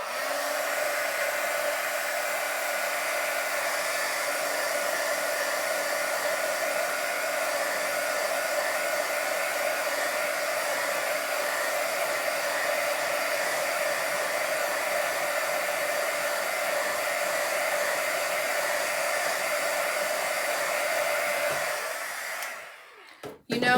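A hair dryer runs steadily for over twenty seconds drying a handmade travel craft project, a constant loud whirring blow with a faint steady hum beneath, then switches off abruptly near the end with a brief clunk.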